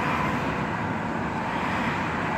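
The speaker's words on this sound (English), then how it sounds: "and this is all the cars there are" Traffic on a three-lane road, Fort Lauderdale's busiest west-east artery, gives a continuous broad roar of passing cars, steady and fairly close with no single vehicle standing out.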